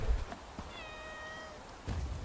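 A cat in the game Bellwright lets out a single clear, drawn-out meow, alone against soft ambient game noise with light thuds before and after.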